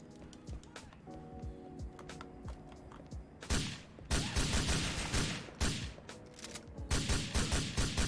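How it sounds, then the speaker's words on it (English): Video game gunfire from Grand Theft Auto IV: rapid bursts of shots, sparse at first and then dense sustained volleys at mid distance, with a faint hum under the opening seconds. "when I am shooting a guy across the street"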